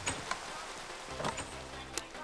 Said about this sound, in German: Es ist gerade Tag und wieso regnet das jetzt? Regen ist doch doof.